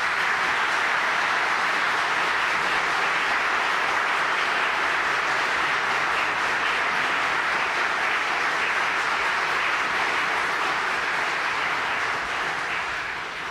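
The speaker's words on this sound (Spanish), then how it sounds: "El público les puede brindar un merecido aplauso." Steady, dense applause from the audience at a Supreme Court swearing-in ceremony for new lawyers, sustained and even for the whole stretch, fading slightly at the end, with no voices over it.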